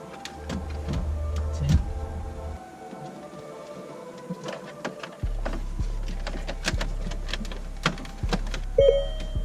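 A car radio is slid into the dash of a Land Rover LR2, giving a series of sharp plastic clicks and scrapes over a low, intermittent electrical hum, with no talking.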